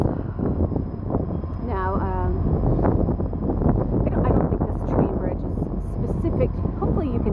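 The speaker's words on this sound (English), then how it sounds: "It's very windy, and then of course the train." Steady wind by the Mississippi River rumbles against the microphone throughout as a Union Pacific train passes, a low continuous roar with a brief voice-like warble partway through.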